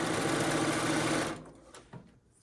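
A sewing machine runs steadily while stitching quilt strips, a close, continuous mechanical whir for just over a second before stopping abruptly, followed by faint handling noises.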